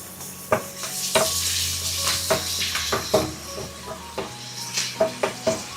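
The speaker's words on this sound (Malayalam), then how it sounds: "എണ്ണ ചൂടായതിനു ശേഷം നമ്മൾ കട്ട് ചെയ്ത് വെച്ചിരിക്കുന്ന പപ്പടം കുറച്ച് കുറച്ചായിട്ടിട്ട് ഫ്രൈ ചെയ്തെടുക്കാം" Cut papadam pieces fry in hot coconut oil with a soft, steady sizzle, broken by several sharp clinks and scrapes of a utensil against the pan.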